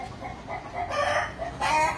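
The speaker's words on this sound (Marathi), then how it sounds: "आपल्या कोंबड्या सगळ्या अशा वरती बसलेल्या आहेत, काही आतमध्ये आहेत" Free-range desi poultry hens cluck close by while a rooster crows in drawn-out calls, the crowing rising twice over a steady murmur of fowl.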